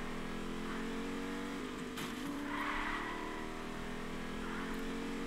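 Car driving in the Fortnite video game, a steady engine drone with rising revs and a brief tire squeal, fairly faint and continuous without talk.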